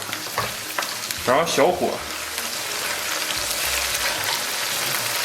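Scallions with doubanjiang and chili sauce sizzle and crackle as they are stir-fried in a wok. A spatula scrapes and stirs in short bursts, and a voice speaks briefly over the steady frying.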